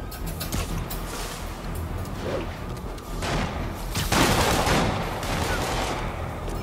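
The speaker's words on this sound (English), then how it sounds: "assailants are firing on police from elevated positions" Sniper gunfire in the Spider-Man PS4 video game, a dense, fairly loud volley of shots and thuds over a constant rushing city backdrop, swelling in the second half.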